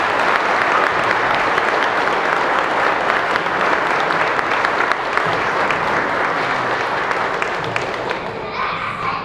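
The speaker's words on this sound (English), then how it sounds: "Let's give both of these folks a round of applause." Sustained applause from a crowd at an EMS headquarters ribbon-cutting ceremony, a steady, full wash of clapping that fades slightly at the end.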